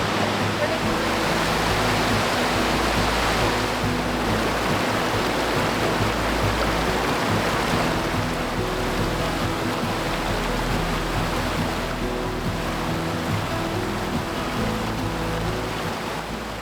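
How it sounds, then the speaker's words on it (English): Hundreds of gallons of water flowing and sinking into the ground at a high-altitude site in Utah, a steady, loud broadband rushing that continues unbroken and fades slightly toward the end. "watch hundreds of gallons of water simply vanish into the ground, or sink as it's technically called"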